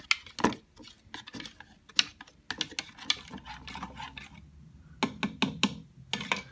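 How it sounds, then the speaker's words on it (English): Kool-Aid being stirred with a spoon in a container, giving irregular clinking and scraping taps, quick clusters of sharp knocks against the sides separated by brief quiet gaps. "so we're gonna stir for about 15 minutes"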